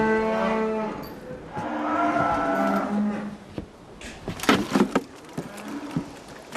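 Cattle held aboard a ship moo in several long, low, drawn-out calls, loud and close, with a creaking shipboard background and a few sharp knocks toward the end.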